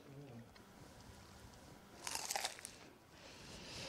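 A single crisp crunch of someone biting into a fried puff puff dough ball, close up, with a quiet voice murmuring faintly before it.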